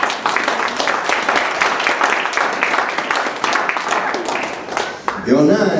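A church congregation applauding, dense sustained clapping that fills the room loudly for several seconds before a voice begins speaking at the end.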